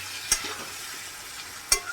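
Hilsa frying in a pan with mustard paste, salt and turmeric: a steady soft sizzle with two sharp scrapes of a spatula as it is stirred, quiet and close with no talk.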